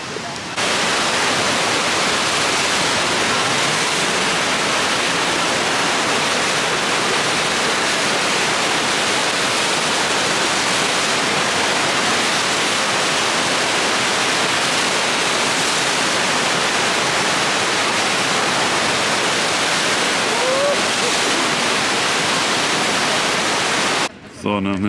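Rushing mountain stream in Austria near the Red Bull Ring, a loud, unbroken broadband roar of flowing water close to the microphone for the whole stretch, briefly dipping at the very end.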